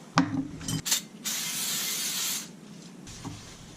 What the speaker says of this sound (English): the next step is to spray this all down with some brake cleaner